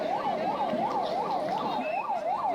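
An ambulance siren wails through a crowd in a steady rising and falling cycle, loud and close, repeating about every third of a second against a background of crowd noise.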